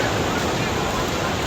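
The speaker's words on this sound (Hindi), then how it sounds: "समंदर की आवाज़, लहरों की आवाज़" Ocean waves breaking on Radhanagar Beach, Havelock Island, a steady broad wash of surf with wind, continuous and fairly loud throughout.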